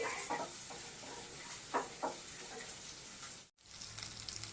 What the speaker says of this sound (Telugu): ఉల్లిపాయలు కూడా మంచి కలర్ వచ్చేంత వరకు వేయించుకోవాలండి.